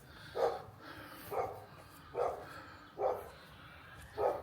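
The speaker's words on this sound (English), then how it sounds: "dog barking in the background" A dog barks in the distance in an English village among rolling green hills, five single barks spaced about a second apart, faint and far off over a quiet outdoor background.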